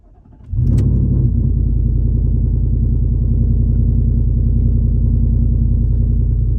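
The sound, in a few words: car engine started and revved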